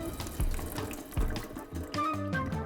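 Tap water runs into a sink to rinse salted cabbage for kimchi, a steady close splashing stream with irregular sloshes and bumps as the leaves are handled.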